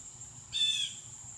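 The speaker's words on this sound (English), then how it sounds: "While you're in the loft, you're whistling." A single short, clear whistled note from a person calling racing pigeons at a loft, sustained for a moment, over a quiet outdoor background.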